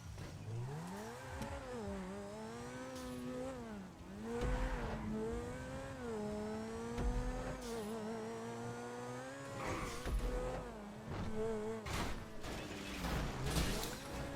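A Grotti Turismo R supercar in GTA races around a test track, its engine whining up and down through the gears as it brakes and accelerates through turns, with occasional tire squeals and no talk.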